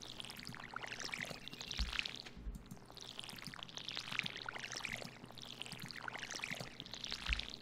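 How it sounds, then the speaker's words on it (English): Watering can pouring onto crops in the farming game Stardew Valley, a soft splashing pour repeated in regular bursts over a quiet, faint musical background. "It's gonna take all of our energy to water all this stuff."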